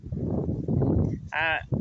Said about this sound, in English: they're supposed to be meat milk goats, and they're good size.